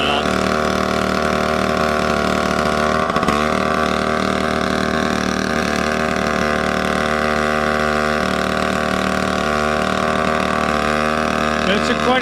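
An antique engine-powered log saw, decades old, runs steadily at a show, its engine chugging with a constant, rich harmonic drone that holds even throughout with a brief disturbance early on.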